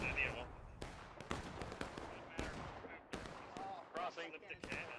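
Booming Civil War cannon and gunfire from the video game War of Rights. Several sharp, loud blasts land at irregular intervals over a noisy battlefield, with voices talking underneath.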